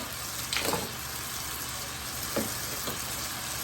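Old Bay seasoning stirred into chili in a pot, giving a steady hiss and bubbling sizzle with a few soft scraping stirs, close and moderately loud.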